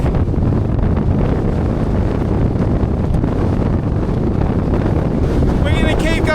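Strong wind buffets the microphone high up on a Lake District fell, a loud, constant roaring gust that never lets up, with a faint whistling near the end.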